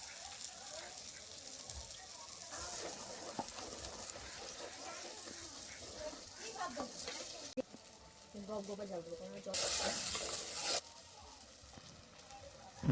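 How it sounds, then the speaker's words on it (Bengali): Whisked sour yogurt is added to spice paste frying in oil for a katla fish kalia. A faint sizzle and stirring sit under low background noise, then a brief, louder hiss rises near the end. "এবার আমি ফাটানো টক দইটা দিয়ে দিচ্ছি পরিমাণ মতো"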